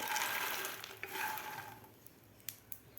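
Roasted makhana being stirred with spices in a pan: a steady scraping, rustling churn close by, fading after a couple of seconds into a few sparse clicks and taps.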